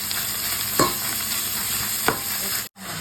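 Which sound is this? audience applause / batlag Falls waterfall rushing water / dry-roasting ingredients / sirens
dry-roasting ingredients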